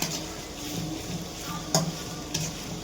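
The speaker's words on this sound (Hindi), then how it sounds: "प्याज भून रही है" Onions frying in a pan, with a continuous close sizzle and a couple of sharp clinks of a utensil against the pan partway through, no talking.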